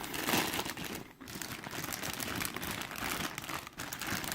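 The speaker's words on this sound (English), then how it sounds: "let's get the plastic off of her" Thin plastic wrapping crinkles and crumples steadily as it is pulled off a Kirika figure, close and continuous with one brief pause.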